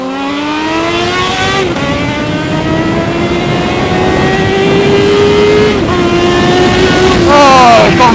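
Sport motorcycle, either a Kawasaki ZX-7R or a Suzuki SRAD, riding along with a steady engine drone that rises and falls through the gears, with crackles and pops coming from the exhaust. The engine sounds close and loud throughout.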